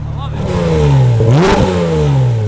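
A Porsche 992 GT3 fitted with a new exhaust revs loudly and up close, its engine note rising steeply to a sharp peak and then falling back into a sustained drone.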